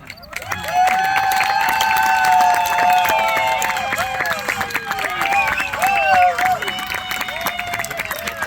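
An audience applauds at a Buffalo Bill Wild West show in a historical village arena, with clapping and crowd noise held under loud tonal sound and voices.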